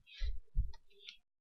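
Two soft computer mouse clicks, close and quiet, spaced about a third of a second apart in an otherwise silent room.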